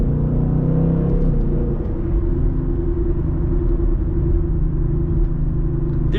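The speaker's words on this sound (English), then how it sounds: "definitely a lot of grit to this 10-speed automatic when you have it in Sport Plus mode" A 2019 Mustang GT with a 10-speed automatic in Sport Plus mode pulls hard, its engine a loud, continuous low rumble with a brief shift-like dip, heard steadily from inside the car without talk.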